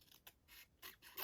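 Scissors make a few quick, close snips trimming card stock for a handmade shaker card, three or four short crisp cuts in just over a second, quiet and with no talking.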